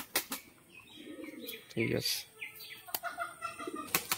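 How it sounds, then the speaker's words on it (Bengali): Pigeons at a loft in Chakdaha, Balarampur beat their wings as they are released, a short burst of flapping rising near the middle amid scattered chirps and coos, with a person speaking briefly. "এখানে সব পায়রাগুলো আগে করে ছাড়া হচ্ছে বন্ধুরা"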